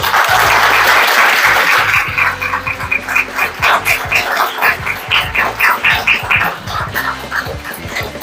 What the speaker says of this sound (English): Let's hear a huge round of applause for all of you.